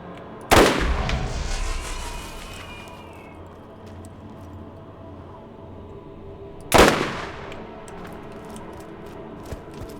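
Two heavy, booming energy-weapon blasts from the tau cannon in Half-Life, each a sharp crack that trails into a long, ringing, metallic decay, spaced several seconds apart with faint ticks in between.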